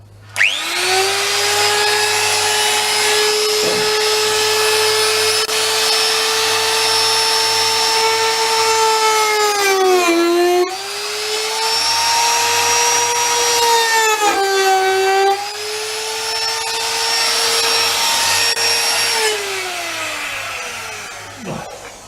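A loud power sander whines steadily against painted wood, stripping paint, its pitch dipping briefly twice as pressure changes, continuous and close with no talking.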